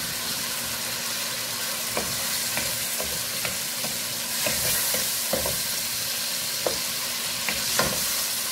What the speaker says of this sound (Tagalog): Hayaan lang po natin siyang medyo para napa-fried-fried po yung chicken para po mas mainam po siya.